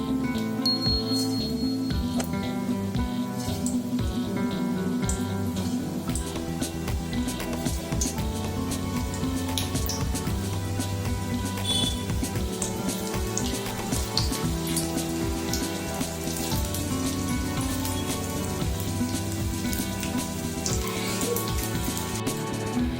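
Banana pakodi fry in hot oil with a dense, continuous crackling sizzle, loud and close, with occasional clinks of a utensil through the steady bubbling.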